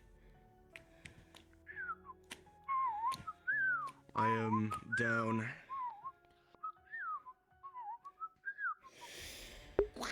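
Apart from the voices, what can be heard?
person whistling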